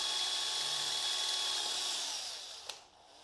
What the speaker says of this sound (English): With the lever removed, you can now drill your 6mm hole.